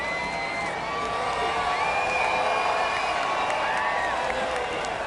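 A large NASCAR Cup Series crowd cheers and whoops after Kyle Busch wins at ISM Raceway, a broad, steady roar of many distant voices mixed with scattered shouts.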